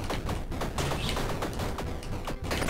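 Rapid, crackling bursts from a legendary weapon's explosions in the video game Tiny Rogues, a dense volley of sharp hits and thuds going off in quick irregular succession with no pause.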